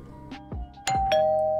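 A two-tone doorbell ding-dong chimes as a software sound effect when a CIA file export finishes for a 3DS, a clean, loud electronic ring that sustains at the end.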